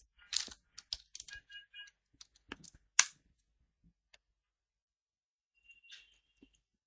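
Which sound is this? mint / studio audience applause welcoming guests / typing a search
typing a search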